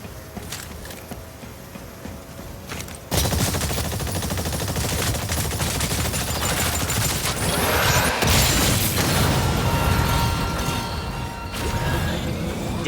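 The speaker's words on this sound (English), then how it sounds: "Heavy artillery!" Heavy artillery fire in the ExoPrimal final boss fight arrives as a sudden loud onset of dense, rapid gunfire and mechanical crashes. It stays relentless and close after a quieter rumbling opening.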